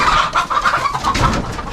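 Chickens cluck and squawk in a farm coop on a morning farm visit, a steady run of close, overlapping hen calls with no talking.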